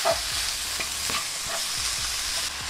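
Beef mince for chilli con carne being stirred and browned in a hot pan: a steady close sizzle broken by repeated scraping strokes of the spoon, with no voices.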